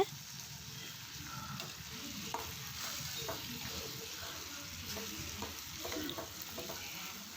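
Bottle gourd sautéing in a pan gives a soft, continuous frying sizzle, with the scrape of stirring scattered through it.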